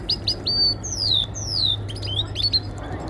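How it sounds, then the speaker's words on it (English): Small birds bathing in water at a castle chirp and tweet in quick, high-pitched bursts and downward-sliding calls, close and clear over a low steady hum. "Little birds in the water."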